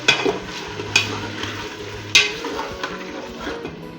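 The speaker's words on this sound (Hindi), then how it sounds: "तो हम दही इसमें अच्छे से शामिल कर लेंगे" Spoon stirring yogurt into fried beef in a pot for beef nihari, with sharp metallic clinks of utensil on pot at intervals over a low sizzle and scraping, close and moderately loud, no talk.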